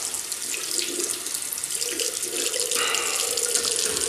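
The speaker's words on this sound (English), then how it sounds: "I'll rinse off and then, well, rinse my hands and then rinse my face." A bathroom tap runs steadily into a sink for rinsing after a shave, a continuous close hiss of flowing water with splashes shifting as hands move under the stream.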